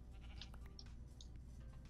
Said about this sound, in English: There's a sheep in a tree.